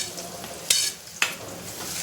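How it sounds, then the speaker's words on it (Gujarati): Potatoes sizzle steadily in hot oil while cooking spicy Maggi noodles, broken by two brief, louder bursts as the pan is stirred. "આ રીતના આપણે એને તેલમાં ફ્રાય થવા દેવાનું છે બટેકાને."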